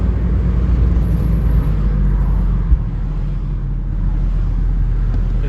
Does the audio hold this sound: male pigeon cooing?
no